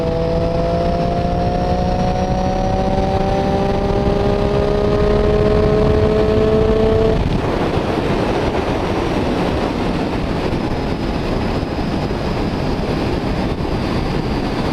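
A motorcycle engine drones steadily with rising harmonic tones for several seconds during a throttle roll-on in sixth gear, then gives way to a broad rushing roar of wind and road noise.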